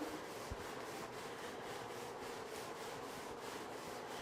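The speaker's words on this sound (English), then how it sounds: "it needs to be scrubbed. Here we have a manual scrubber." A manual scrubber works over grout on a tile floor, giving a faint, continuous rasping rub with a steady back-and-forth texture, heard alone without speech.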